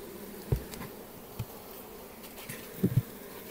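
Soft, low buzzing of honeybees close by at a hive, broken by a few dull knocks and rustles.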